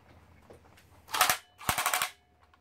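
A full-auto motorized foam dart blaster with 130-size motors on a 2S LiPo battery fires two short, rapid bursts up close, loud and clattering, with no talking.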